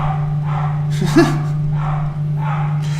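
A dog barks repeatedly in the background, in short bursts a moment apart, over a steady low electrical hum. It is moderately loud, with no talking.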